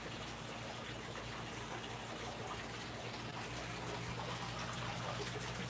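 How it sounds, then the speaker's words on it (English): Water from a garden hose fills a container outdoors in the morning, a steady close rushing gush that holds unbroken and fairly even throughout. "Water is filling up."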